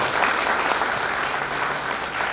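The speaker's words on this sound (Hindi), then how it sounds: "एक बार जोरदार तालियां हमारे फार्म हाउस प्रोजेक्ट के लिए" Audience applause at an event presenting a farm house project, steady dense clapping at full level throughout, with no talking over it.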